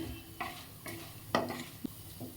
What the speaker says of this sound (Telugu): ఆవాలు చిటపటం ఉంటాయి కదా అంతవరకు ఫ్రై చేసుకుంటే చాలు